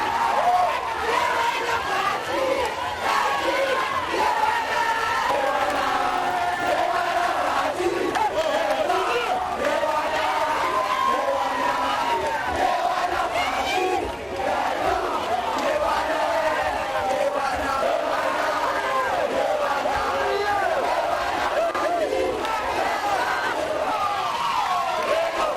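A jubilant crowd welcoming Félix-Antoine Tshisekedi chants and cheers continuously, a dense mass of voices sustaining rhythmic singing and shouts at steady loudness throughout, close and enveloping.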